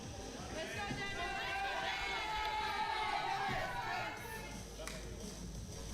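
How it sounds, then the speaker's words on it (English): Crowd at a men's 120+ kg classic powerlifting championship roaring steadily behind a lifter during a deadlift attempt, a dense, continuous swell of cheers and shouts with no break. "And the crowd gets behind him."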